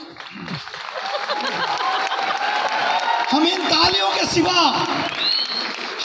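A large stadium audience in Delhi applauds and cheers, a broad wash of clapping that swells and holds, with whoops and a voice heard over the crowd.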